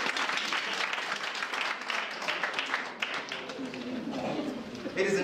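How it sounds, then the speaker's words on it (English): An audience at a customer service talk claps for itself, a dense, sustained round of applause from many hands at moderate level, fading slightly toward the end as a voice begins. "Then clap hands for yourself."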